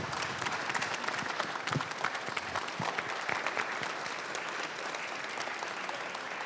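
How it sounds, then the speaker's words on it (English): Enthusiastic audience applause for military service members at a panel event, dense and continuous clapping with some crowd noise mixed in, holding steady throughout. "Let's give them a round of applause."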